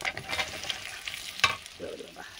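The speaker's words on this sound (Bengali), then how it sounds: "দেখো আমগুলো এইভাবে তেলের সঙ্গে চিনির সঙ্গে লেড়ে নেব" Mango pieces frying in spiced oil with sugar for a pickle give a soft, uneven sizzle with stirring scrapes and one sharper utensil knock, fairly quiet and without speech.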